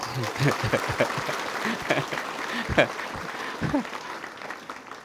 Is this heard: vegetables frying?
no